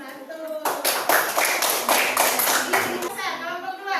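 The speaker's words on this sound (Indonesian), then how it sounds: "Kita tepuk tangan di kelompok 1." A classroom of students claps hands together in rhythmic bursts for a group, the pattern of beats loud and close, with children's voices mixed in.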